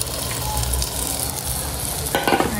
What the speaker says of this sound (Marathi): आणि आता आपण याच्यामध्ये भाजी टाकूया फोडणीला